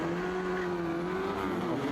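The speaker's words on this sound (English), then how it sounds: "We've got engines revving." Race car engines revving on the grid before the green flag at a night motor racing championship meet, a loud steady droning blare holding a sustained pitch that rises slightly toward the end.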